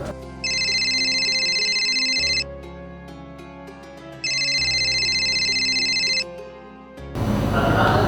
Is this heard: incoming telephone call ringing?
yes